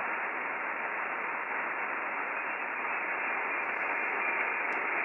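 Steady hiss of radio static from an Icom 7300 transceiver with noise reduction set to level 0, a dense, unbroken wash of noise at constant level throughout, with no voices.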